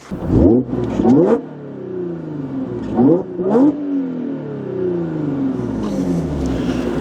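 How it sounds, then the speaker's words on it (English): Revving Audi S5 B8.5 fitted with CAP resonated test pipes, heard from inside the car: two pairs of loud rising revs with a smooth drone falling away between them, then a steady hum. "here's what it sounds like from inside the car revving"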